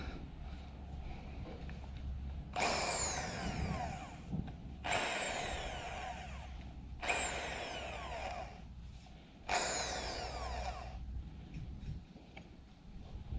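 A power drill runs in four short bursts of a few seconds each, separated by brief pauses, close and fairly loud, during floor-slab work on a small house under construction.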